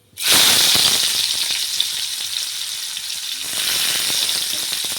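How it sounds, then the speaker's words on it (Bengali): Chopped onions hit hot oil in a pan with an abrupt, loud sizzle that then holds as a steady crackling fry, rising slightly toward the end, with no voices. "এবার দিয়ে দেব পেঁয়াজ কুচি।"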